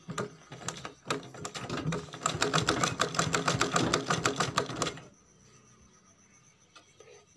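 A sewing machine stitches a plain blouse in a fast, steady run of close mechanical ticks that lasts about five seconds and then stops, leaving faint room noise.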